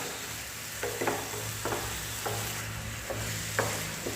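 Lumps of jaggery pressed and stirred with a spatula among grated carrots for gajar halwa, a low steady frying hiss under regular clunking strokes about every half second, close and moderately loud.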